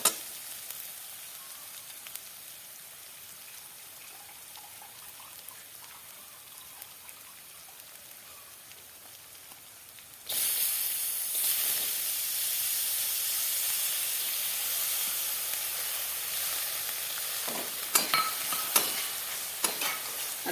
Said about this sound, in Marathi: आता डाळ ही छान ह्याच्यामध्ये अशी परतून घ्यायची. गॅस थोडा फास्ट करायचा आता.